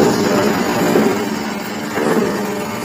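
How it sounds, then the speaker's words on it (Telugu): A 2 HP single-phase electric motor drives a paper plate making machine, giving a steady broadband running hum and whir with slight swells, close and continuous, no talk. "2 HP మోటార్ సౌండ్ వినిపిస్తుంది"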